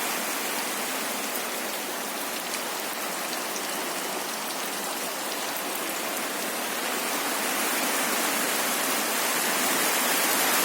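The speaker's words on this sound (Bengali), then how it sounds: "বৃষ্টি বৃষ্টি আহা কি অপরূপ সৃষ্টি" Steady rain pours down on a home garden of plants, a dense, even hiss of countless drops that stays constant and grows slightly louder toward the end, with no voices.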